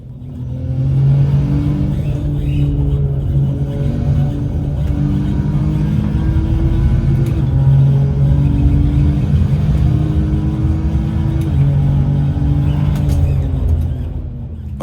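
Nissan Skyline GT-R race car engine in a sim racing game on a real track, droning steadily and loud for the whole stretch with rising and falling revs through gear changes, no voices over it.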